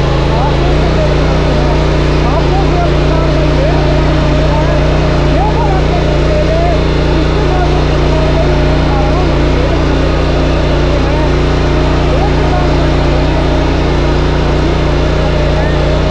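A power weeder engine drones steadily and loudly while it forms soil ridges in a farm field, a constant low mechanical hum with no break.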